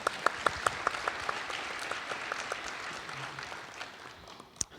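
An audience claps at an aviation security conference plenary, a burst of strong individual claps at first that thins into scattered, fading applause, with one late clap near the end.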